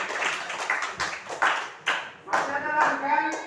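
Students clapping in a classroom, short uneven bursts of hand claps from a small group with faint voices mixed in.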